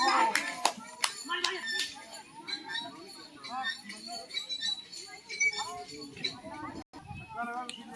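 Crowd at a local cricket tournament match applauds player Mohammad Aman after a six: scattered hand claps and clinks burst early, then mingle with children's chatter and nearby voices throughout.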